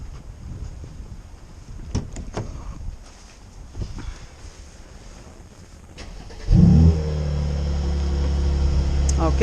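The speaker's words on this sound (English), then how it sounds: "now I'm gonna turn on the engine" A 2018 Mercedes SL engine cranks and catches partway through, jumping to a loud, steady exhaust rumble at idle after a stretch of quiet handling noises and brief talk nearby.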